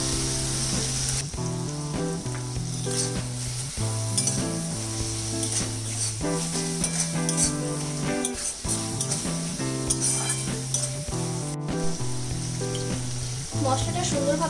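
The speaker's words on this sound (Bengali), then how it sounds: "মশলাটা সুন্দরভাবে কষা হয়ে গেছে আর উপর থেকে তেলও ছেড়ে দিয়েছে।" Spice masala stir-fries in oil in a pan for a poached eggs curry, a bright continuous sizzle running beneath prominent melodic background music.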